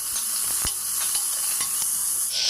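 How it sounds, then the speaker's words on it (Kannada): Sliced onions and green chillies fry in a pan for restaurant-style ghee rice, giving a steady, close sizzle with a few soft clicks and crackles. "ಇವಾಗ ಮತ್ತೊಂದು ಸರಿ ಚೆನ್ನಾಗಿ ಫ್ರೈ ಮಾಡ್ಕೊಳ್ಳಿ"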